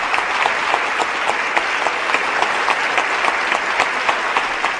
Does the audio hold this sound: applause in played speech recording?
yes